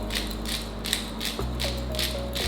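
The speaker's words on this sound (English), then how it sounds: "I'm not sure how you measure a half teaspoon with this thing grinding. I'm just gonna do a bunch of pepper." A hand pepper grinder cranks out a generous amount of pepper for a baked chicken sauce, giving a steady ratcheting, gritty grind in close repeated bursts with no voices.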